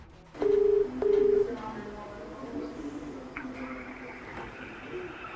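Ringback tone of a phone call to a Delhi hospital during the coronavirus crisis, two loud close rings in quick succession, followed by fainter background sounds and a murmuring voice.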